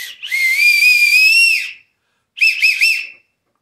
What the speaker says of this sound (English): so here's our whistle